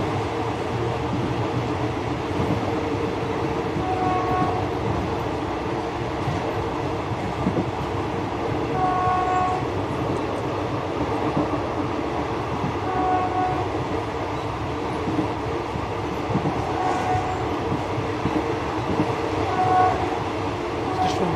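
A train in Thailand rumbles past loudly and steadily, sounding its horn in several short blasts spread through the long pass, with some faint background speech.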